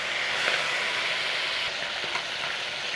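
Carp pieces coated with salt and turmeric fry in a pan for a potato fish curry, making a loud, steady, continuous sizzle with no talking.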